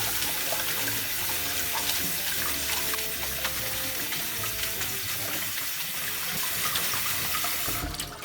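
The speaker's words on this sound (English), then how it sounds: "I'm going to wash this with running water." Tap water runs steady and loud into a sink while cooked ramen noodles are rinsed under it for cold ramen, with a continuous splashing rush and no voices.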